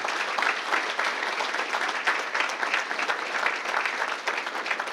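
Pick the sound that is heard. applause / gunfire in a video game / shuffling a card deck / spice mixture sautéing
applause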